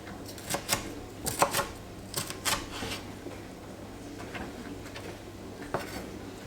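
Irregular sharp taps of a knife chopping a jalapeño small on a cutting board, bursts of quick strokes with pauses, close and moderately loud.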